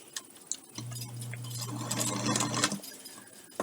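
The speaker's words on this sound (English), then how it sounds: "make sure you're sewing through all of your layers" A sewing machine stitches through several layers of fabric for a fabric bowl holder, its steady motor hum running for about two seconds and framed by light clicks and handling noises.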